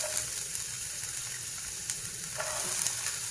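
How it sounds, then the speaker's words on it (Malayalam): Chopped onions hiss faintly in coconut oil in a pan, a soft, even sizzle broken by a few brief stirring clicks, with no one talking. "ഇനി നമ്മൾ അരിഞ്ഞു വെച്ച സബോള ഇട്ട് കൊടുക്കണം."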